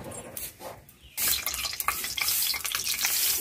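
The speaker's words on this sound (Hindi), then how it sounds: "इसमें हम डालेंगे घी को" Ghee hitting a hot pan for semolina barfi bursts into a loud, crackling sizzle after a few quieter clatters, the bright hiss holding steady and close to the end.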